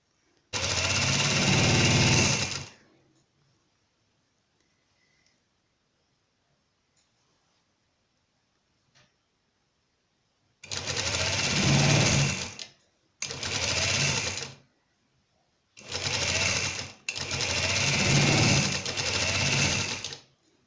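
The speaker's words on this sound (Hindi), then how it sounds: "रिवर्स अब इसकी साइड की स्टिचिंग हमने स्टार्ट कर ली है" Sewing machine stitching the side seam of a trouser, running in five loud close bursts of steady rapid whirring separated by silent pauses, with faint clicks in between.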